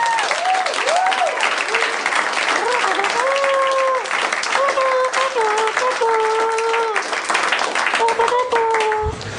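Studio audience applauding for Spencer at the close of a live comedy podcast's game segment; steady clapping fills the room while voices carry over it.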